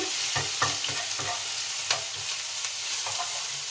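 Chopped ginger frying in a pan for vegetable fried rice, a constant gentle sizzle broken by rhythmic stirring taps and scrapes, quiet and close with no voices.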